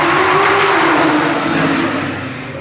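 A Porsche race car accelerates hard on a drag strip, its loud engine note rising and sustained close by, with a strained, climbing tone that holds for a couple of seconds before easing slightly.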